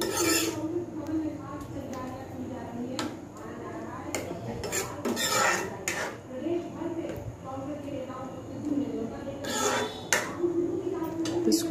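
Besan bhindi sabzi stirred in a pan over a medium flame, repeated scraping and clinking of a spoon against metal, close and intermittent, with someone talking throughout.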